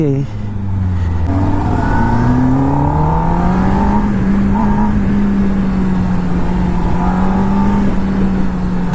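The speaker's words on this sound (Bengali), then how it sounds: "এই যে ইঞ্জিনের রোডিংটা ভাই সিধা বুকে এসে লাগে" A Kawasaki Ninja ZX10R motorcycle engine roars loud and close while riding onto a flyover, its pitch climbing steadily and then holding at a sustained high drone under some faint talk.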